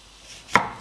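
A kitchen knife slicing a vegetable in half for a fattoush salad: one single sharp, close chop striking a cutting board, brief and crisp against near silence.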